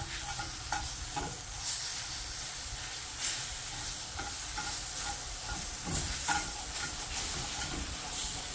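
Granola being stirred in a hot skillet, giving a continuous frying sizzle and hiss with soft, irregular scraping strokes throughout, and no one speaking.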